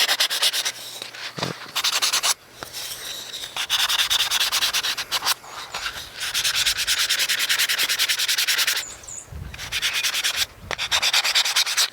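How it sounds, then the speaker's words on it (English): Steady rhythmic rasping of fine sandpaper rubbed back and forth over a wood carving, close up, in long continuous strokes with a few brief pauses. "it seems like you've been sanding for too much"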